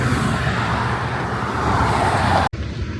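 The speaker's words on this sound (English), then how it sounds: "There's a lot of cars coming." Cars and trucks rush past on a highway, a loud continuous roar of traffic close by, ending with a brief cut into a quieter stretch.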